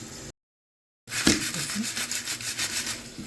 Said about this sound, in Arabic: سامعين صوت القرمشة؟